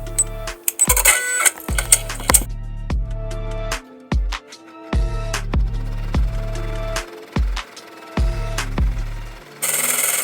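Brother PR655 embroidery machine running a placement stitch, a close mechanical whir in stop-start runs punctuated by sharp clicks and clacks, with no voices.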